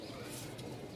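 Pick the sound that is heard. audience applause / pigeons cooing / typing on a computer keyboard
pigeons cooing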